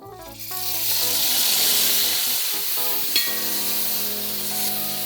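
Marinated mutton fries over a high flame in hot oil seasoned with green cardamom and peppercorns, a loud steady sizzle with spoon stirring and one sharp clink partway through.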